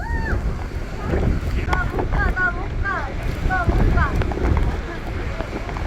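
A strong gale blows outdoors in Iceland, giving a continuous low roar and buffeting against the microphone. People talk throughout, their voices partly covered by the wind.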